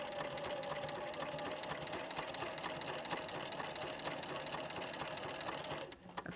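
A sewing machine runs steadily for about six seconds, stitching applique along a curved orange peel border, with a fast, even needle rhythm up close before it slows and stops at the end.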